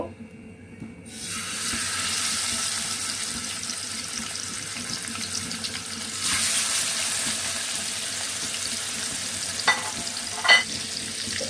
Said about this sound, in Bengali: এবার আমি এটাকে তেলে ভেজে নিব। এখানে আমার তেলটা প্রায় গরম হয়ে গিয়েছে। এখন আমি মাছটা দিয়ে দিব।